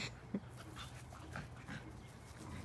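A dog yelps once sharply and then pants quietly and steadily in a calm indoor room.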